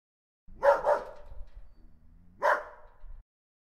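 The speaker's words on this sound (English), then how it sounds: "Dog." A dog barks twice in quick succession, pauses with a faint low whine, then gives one more bark, close and clear against silence.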